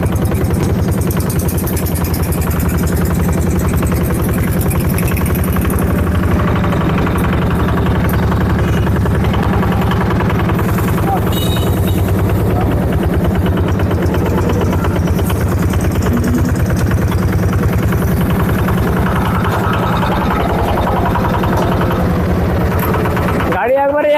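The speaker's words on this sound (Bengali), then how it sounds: "গাড়িটা স্টার্ট মারেন খালি। একদম অরিজিনাল, একদম নতুন ইঞ্জিন, কোনো আলাদা কোনো সাউন্ড নাই।" A car with an original, nearly new engine idles steadily, a close, continuous low hum that stays loud and even, with people talking over it.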